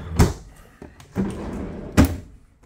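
A sliding freezer compartment in an RV refrigerator, in a new 2022 East to West Tandara 285RL fifth-wheel trailer, closes with two sharp thunks about two seconds apart. Softer knocks and handling noise fall between them.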